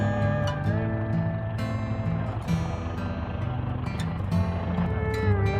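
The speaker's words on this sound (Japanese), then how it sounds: "ここで離陸前のエンジンチェックをするらしい。" Cessna 172 piston engine running steadily during a pre-takeoff engine check beside a runway at Sapporo, a continuous near drone with harmonic hum and slight pitch shifts, heard from inside the cabin.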